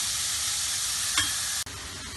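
Onions sautéing in a pan for potato sagu, giving a steady close sizzle and fry hiss, with a short scrape of stirring partway through and a brief knock near the end.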